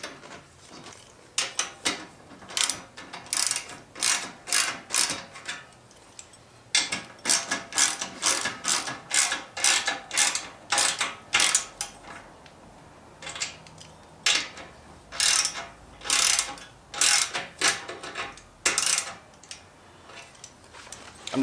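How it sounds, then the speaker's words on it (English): Wrench tightening exhaust bolts on a 2018 Harley-Davidson Road Glide fitted with Cobra exhaust, bursts of rapid ratcheting clicks in short repeated runs with pauses between, close and fairly loud, no talking. "I'm just loosely tightening them"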